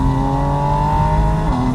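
A Porsche 718 Spyder RS flat-six drones steadily through its carbon intakes at speed, a loud, close, sustained tonal roar heard from inside the cabin with no voices.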